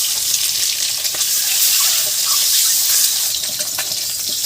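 An egg fries in mustard oil in a kadai, giving a continuous close, hissing sizzle at steady loudness.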